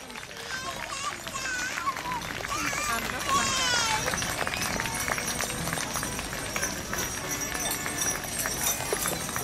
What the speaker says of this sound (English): And the heavy horses.